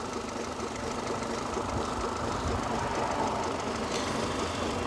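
A 2002 Mercedes A-Class engine idling as it warms up, making a steady close rumble with a constant low hum and no changes in revs, with no talking.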